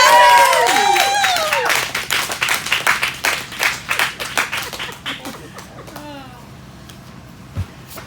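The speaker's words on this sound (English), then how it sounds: "huge round of applause for Francis." An audience at a poetry slam claps steadily for several seconds, strong at first and then thinning out, with a voice speaking over the opening and again near the end.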